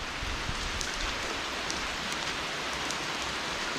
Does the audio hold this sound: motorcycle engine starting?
no